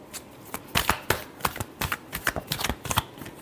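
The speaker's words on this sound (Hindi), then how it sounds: "last shuffle," Tarot cards being shuffled by hand in a close, dry riffle, with a quick run of papery flicks and snaps that come in bursts and fill the whole stretch with no talk over them.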